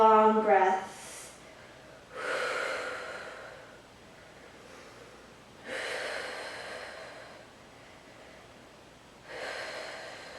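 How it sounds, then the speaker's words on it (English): Long, deep Pilates breaths during a floor exercise: three slow, airy exhalations spaced a few seconds apart, close to the microphone, each swelling and fading, after a brief vocal sound at the start. "Big, long breaths."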